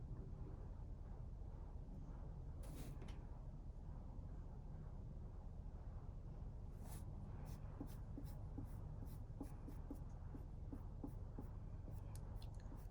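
Soft, steady scratching of a tool tracing along a drawn line while a snowman ornament is painted, faint and continuous with a few light taps near the end, no voices.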